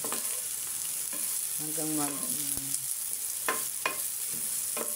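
Ginger, garlic and onion sizzle steadily in a pan as they are sautéed, with stirring scrapes and clicks over the constant frying hiss; a brief spoken word occurs.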